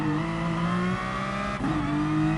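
Racing engines in Gran Turismo Sport, with a Ford Raptor dueling a Ferrari, drone steadily with layered harmonic tones. The pitch shifts once midway, like a gear change, and the sound stays close and loud throughout.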